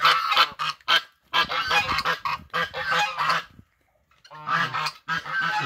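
Geese honk repeatedly in loud, harsh bursts close by on a rural farm after rain, with overlapping calls from several birds and a brief pause before the honking resumes.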